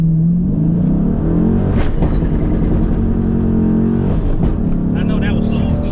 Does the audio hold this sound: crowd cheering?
no